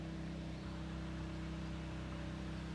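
A steady mechanical hum with a low droning tone runs continuously under broadband hiss, from a water pump moving creek water into a vernal pond at an arboretum.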